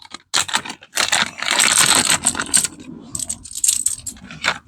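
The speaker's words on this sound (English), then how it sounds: "Now we're just going to grab our thumb screws" Metal thumb screws for a Yarbo snowblower being picked up and handled: bursts of close metallic clinking and jangling, rattling in quick irregular clusters throughout.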